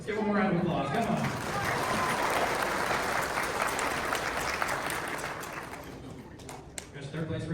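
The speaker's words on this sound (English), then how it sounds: "Let's give one more round of applause." Crowd applause at a truck show fills the whole stretch, dense steady clapping with cheers, loud and continuous, easing slightly near the end.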